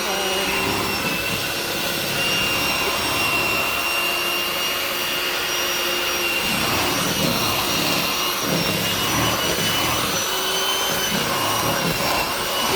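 An electric mixer beats cake batter with a loud, steady whirring drone that holds unbroken throughout, close up and with no talking.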